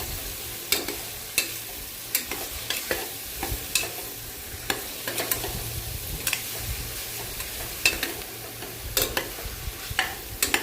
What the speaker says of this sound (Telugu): పీసెస్గా తీసుకున్న బీరకాయ పీసెస్ అన్నీ అందులో వేసుకొని ఆ పోపులో మంచిగా కలుపుకోవాలండి